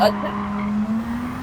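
Zero Limits race car engine drones steadily with a rising pitch through a Tokyo race, with a brief tire skid near the start, loud and close.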